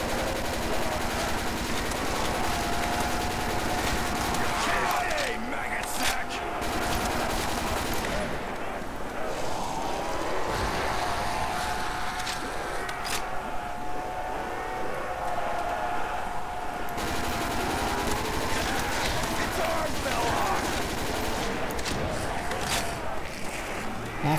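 Rapid automatic gunfire and shooting sounds from a Nazi zombies video game run continuously and loudly throughout, dense bursts layered over game noise.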